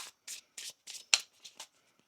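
Tarot cards shuffled by hand in a series of about seven short, crisp riffling bursts, close and fairly quiet, with one sharper snap near the middle and brief pauses between bursts.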